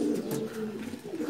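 Racing pigeons coo in a loft, a close, low, rolling coo that swells and dips continuously over a brief stretch.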